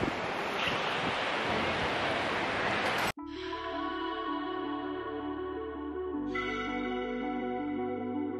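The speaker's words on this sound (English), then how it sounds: "It's like really, really windy and it's gorgeous." Loud, blustery wind roars across the microphone on a beach in Goa for about three seconds, then cuts off abruptly and steady music takes over.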